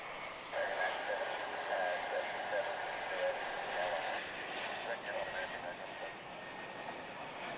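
Jet airliner arriving from Laredo, Texas at Dallas Fort Worth International Airport, a faint, steady distant roar with a brief whining tone, heard from afar alongside wind and background noise.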